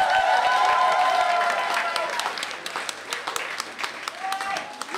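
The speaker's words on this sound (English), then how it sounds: "Keep clapping until she gets here" A comedy club audience claps and cheers as a comedian is brought on stage, loud applause at first that gradually thins into scattered individual claps, with a few whoops and voices mixed in.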